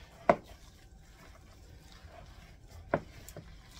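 A wooden spoon works through a lasagna casserole in a dish, giving two sharp scraping knocks roughly two and a half seconds apart, with soft quiet stirring and faint room noise in between and no talking.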